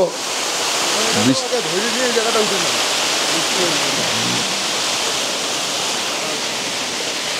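A waterfall pours and throws heavy spray close by, a loud, constant roar of rushing water. Voices talk briefly over it near the start.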